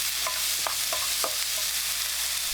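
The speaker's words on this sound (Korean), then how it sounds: "식용유 2스푼, 다진 마늘 듬뿍 1스푼, 다진 양파, 마른 고추 넣고 볶아주세요." Minced garlic, chopped onion and dried chili frying in two spoons of cooking oil, giving a steady close sizzle with a few soft utensil scrapes and clicks spaced through it, no voices.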